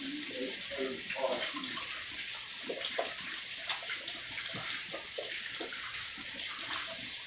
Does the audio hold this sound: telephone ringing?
no